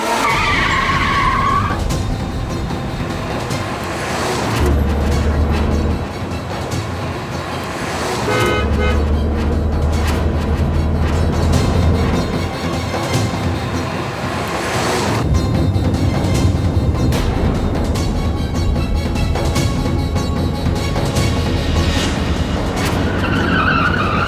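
A car driven fast with tires skidding and squealing, sustained loud engine roar with repeated screeching bursts and a horn toot, no clear talk over it.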